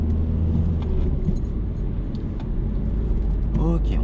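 Engine rumble and road noise fill the interior of a car accelerating in third gear during a driving lesson. The sound is low and steady throughout, and a voice speaks briefly near the end.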